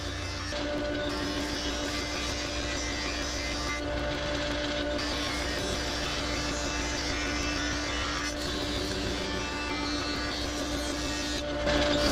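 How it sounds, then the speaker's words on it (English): A jointer machine planes the edges of wooden boards, a steady, dense roar that holds unbroken for about twelve seconds with no voices. "I jointed one edge of all the boards."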